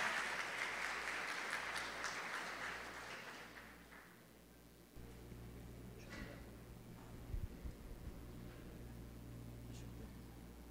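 An audience at a formal launch ceremony claps steadily for an introduced official, a dense wash of applause that fades out and leaves a quieter room with scattered noise.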